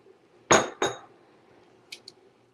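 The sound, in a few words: spoon stirring a cornstarch slurry in a pot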